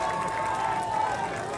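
St. Rita's fans at an IHSA 3A high school baseball super sectional game keep up a continuous crowd roar with cheering and shouting, loud and steady from start to finish.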